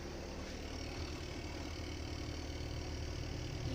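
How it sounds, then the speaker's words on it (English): The inboard engine of a Colvic Watson 34 motor sailer runs steadily at about 1000 rpm, a dense, even, continuous mechanical rumble with no speech. "Engine on 1000 and speed 4 knots."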